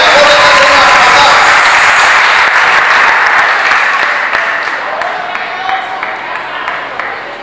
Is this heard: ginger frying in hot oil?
no